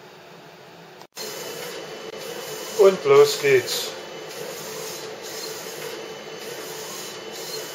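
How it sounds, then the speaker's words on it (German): A large-format printer up to 1.15 m wide starts printing a canvas picture, its steady mechanical whir and rasp kicking in abruptly and running continuously at moderate level after a brief spoken phrase. "Gleich wird er anfangen zu drucken."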